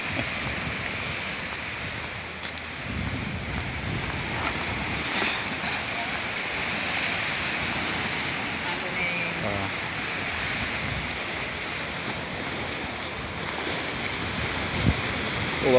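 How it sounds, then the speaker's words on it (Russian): Sea waves washing onto the shore at night along a seaside promenade in El Campello, Alicante, a steady faint rushing wash with wind noise on the microphone and a few soft splashes. "Ну вот, пожалуйста, вам море, друзья. Оно плещется"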